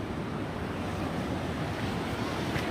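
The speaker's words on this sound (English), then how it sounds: "here we can watch the water coming in and out with the tide and the waves" Ocean waves washing in and out over the La Jolla tide pools at midday low tide, a steady broad roar of surf mixed with wind buffeting the microphone, close and continuous.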